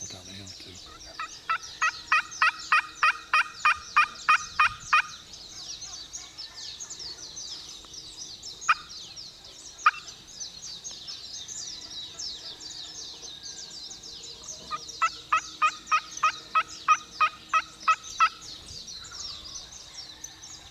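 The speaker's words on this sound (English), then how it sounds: "There's a gobble down the hill too." Wild turkeys gobbling outdoors on a hillside, heard in two distinct bouts of rapid repeated gobbles at moderate distance, with a few isolated calls between them and faint birdsong in the background.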